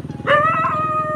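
A dog resembling a Belgian shepherd gives a sustained, howling bark-like cry, loud and close, over a steady rhythmic mechanical rumble in the background.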